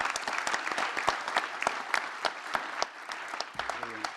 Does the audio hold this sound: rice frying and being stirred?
no